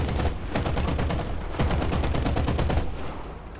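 Sustained automatic gunfire in War Thunder, a Chi-Ha tank and Ki-21-Ia bomber battle, with rapid, loud, evenly spaced machine gun bursts running almost unbroken throughout, no talk.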